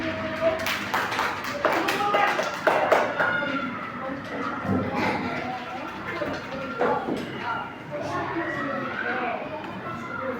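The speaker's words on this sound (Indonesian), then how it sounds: "Beri tepuk tangan untuk kelompok umum." Students in a classroom clap for a group that has just finished presenting, the sparse hand claps mixed with steady talk and chatter throughout.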